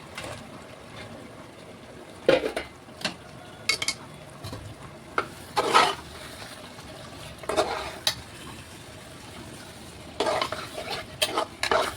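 Potatoes sizzling in a hot pan while a spoon scrapes and stirs them in repeated bursts, with clinks against the metal between quieter stretches of frying.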